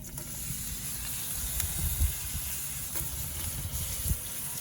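Onions sizzling in butter on a Big Green Egg grill, a soft steady frying hiss with low rumbling bubbles and a few faint stirring bumps, quiet and without speech.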